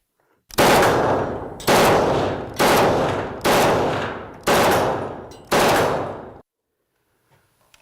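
An AK-12 assault rifle is test fired at a Kalashnikov factory range, six loud, sharp bursts of automatic fire in an even rhythm, each trailing a brief echo, with silence after the last.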